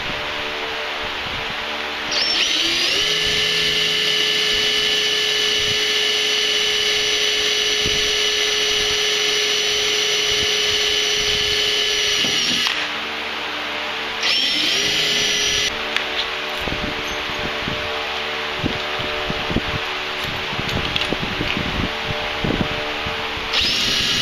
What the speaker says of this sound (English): Use the pilot hole drill first.